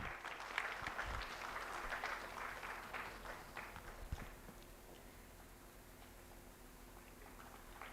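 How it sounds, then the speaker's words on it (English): Audience applause at a mineral block auction event, a dense patter of clapping for the first few seconds that thins and fades into quiet room noise. "Let's have a round of applause."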